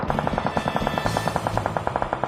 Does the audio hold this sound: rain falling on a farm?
no